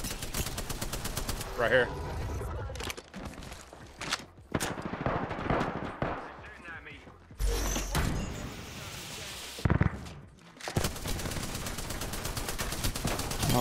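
Gunfire in a video game shootout, bursts of rapid automatic shots and single sharp blasts with pauses between them, loud and close, while a player talks briefly over the action.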